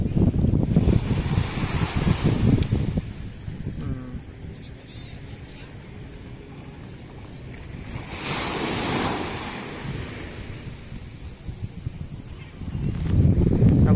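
Calm sea at Patong beach in Phuket: gentle waves wash ashore in soft surges, swelling and fading several times, with wind buffeting the microphone and someone talking quietly in places.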